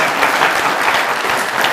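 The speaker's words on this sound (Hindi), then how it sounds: "तालियां हो जाएंगी।" A studio audience at a comedy show breaks into loud, dense, sustained applause, a steady wash of clapping close to the microphone with no break.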